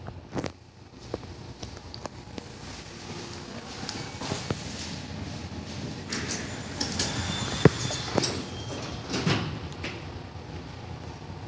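New sliding elevator doors at a subway station mezzanine open on both sides, with rumbling, clunks and scattered knocks and footsteps in a reverberant space, no talk.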